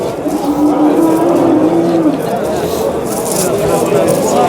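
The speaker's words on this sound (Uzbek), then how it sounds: "Mana shu sigirimiz hozir." A cow at the Piskent livestock market gives one loud, drawn-out moo close by, with steady crowd and market noise behind it.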